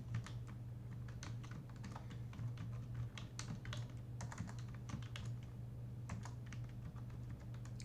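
Rapid typing on a computer keyboard, quiet close key clicks in irregular bursts over a low steady electrical hum, no speech.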